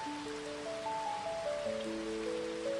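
Rain falling steadily outside a window makes a soft, even hiss throughout, with gentle sustained tones drifting over it.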